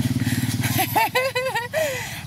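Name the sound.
motorcycle approaching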